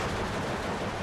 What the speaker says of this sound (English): Under machine gun fire as well.